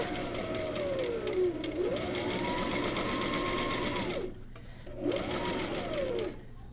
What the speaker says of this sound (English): I'm gonna turn it, pivot, line it up, and then you're gonna keep sewing